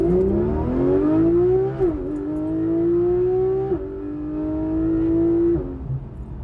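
A Porsche GT3 RS accelerates from about 30 to 50 km/h, its engine rising in pitch with a loud, close whine and brief dips at each gear change.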